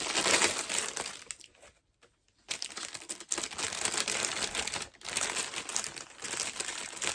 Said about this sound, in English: Excuse the crinkling.